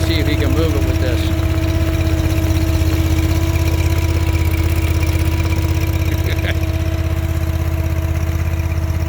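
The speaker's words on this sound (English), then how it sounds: "powered by a Honda engine." A two-ton stand-on skid steer with a Honda engine idles nearby, giving a steady, even mechanical hum with a low throb that holds unchanged throughout.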